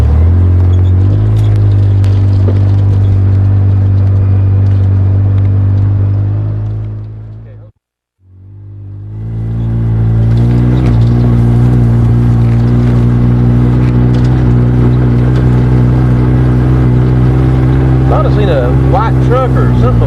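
A car drives along a country road in Letcher County with a loud, steady engine rumble and road noise that briefly drops out, then returns and builds again as it accelerates.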